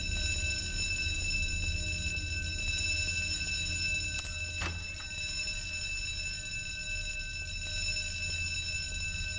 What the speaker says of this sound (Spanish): ¿por qué está sonando la alarma?